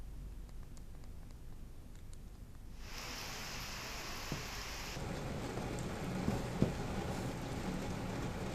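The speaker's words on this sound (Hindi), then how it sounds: "शहर के अलग अलग हिस्सों और गंगा घाटों पर रुक रुक कर हो रही तेज बारिश" Heavy rain pours steadily, swelling into a louder, denser roar partway through, with faint low rumbles of thunder and a few sharp cracks, over city streets and the Ganges ghats.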